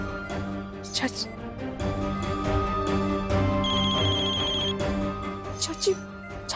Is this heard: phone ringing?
yes